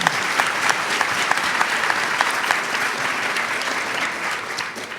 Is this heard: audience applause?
yes